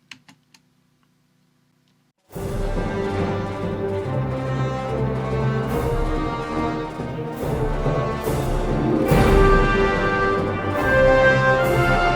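A full orchestral arrangement plays back, starting after a couple of seconds of near silence with faint clicks, then sustained layered strings, brass and percussion hits.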